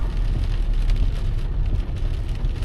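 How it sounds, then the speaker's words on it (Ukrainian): Heavy rain drums steadily on a car in which a taxi driver sits, a dense, constant downpour heard from inside the car with no one talking. "Погодка, конечно, дощ лупаше."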